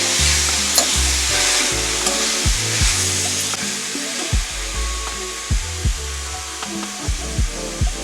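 Radish leaves being stirred and mixed in a hot pan, with a steady sizzle and repeated scraping strokes of a spatula against the pan, fairly close and without talk.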